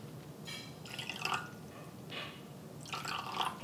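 Water poured in small splashes into a bowl of hoisin sauce, soy sauce and sesame oil for a moo shu pork sauce, three short liquid bursts close by with quiet kitchen background and no talk.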